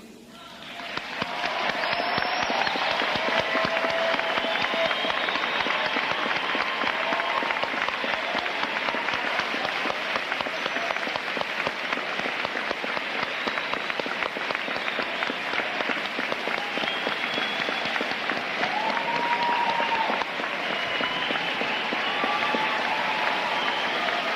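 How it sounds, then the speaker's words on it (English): Sustained applause from a commencement audience honoring the graduates' families, a dense, steady wash of clapping that swells in after a moment and holds loud and even throughout. "ask the families of the graduates, parents, spouses, and children to stand for a brief moment so that we may recognize you and applaud you"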